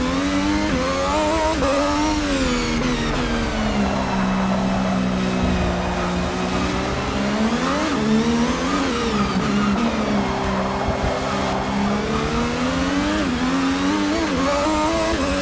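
An F1 car engine in the Forza Motorsport 6 video game, driven at the Nordschleife, screams loudly throughout, with pitch rising through repeated upshifts, short revs cut off early and dropping again, and no voices.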